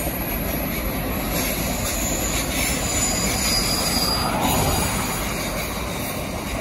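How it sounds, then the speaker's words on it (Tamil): A 774-metre-long train rolls past in Australian bushland beside the Stuart Highway, a continuous close rumble of wagons and wheels with steady clatter and faint squeal throughout. "இந்த புகையிரதத்தின் நீளம் வந்து 774 மீட்டர்."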